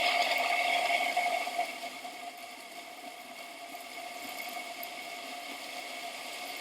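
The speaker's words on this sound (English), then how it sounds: "that motor will start to turn." A small DC electric motor runs on a power supply in a physics classroom demonstration, giving a steady, faint whir with tonal hum that eases slightly in level after the first couple of seconds.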